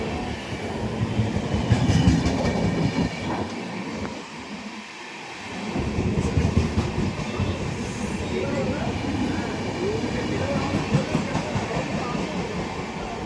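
A train rolls into a railway station platform in Kolkata on a rainy day, with a steady rumbling clatter of wheels that dips briefly and then returns, while voices talk over it.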